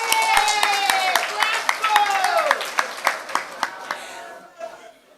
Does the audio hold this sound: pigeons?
no